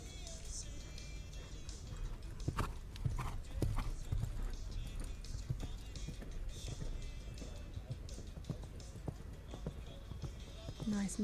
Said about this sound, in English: Nice medium canter down that long side, really showing a difference between the collected canter and the medium canter.